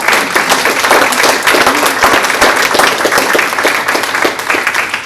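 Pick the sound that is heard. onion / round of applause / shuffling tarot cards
round of applause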